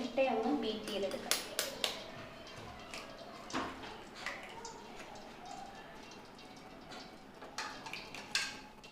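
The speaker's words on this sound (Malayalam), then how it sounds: "ഇനി നമുക്ക് 2 മുട്ടയൊന്ന് ബീറ്റ് ചെയ്തെടുക്കാം." Two eggs are beaten in a bowl, making irregular light clinks and taps of utensil against the bowl, close and fairly quiet, with some speech in the background.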